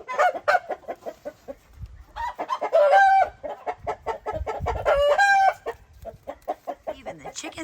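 Farm chickens cluck in busy, irregular bursts close by, with a couple of longer drawn-out calls rising above the steady clucking.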